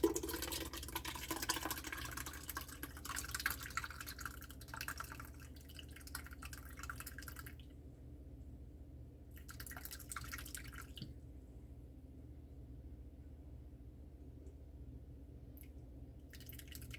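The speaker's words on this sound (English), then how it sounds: "We're going to let this drip for a good half hour." Liquid drips steadily from a strained cheese mixture, a quick run of close, crisp drops that thins out to occasional drips over a low background hum.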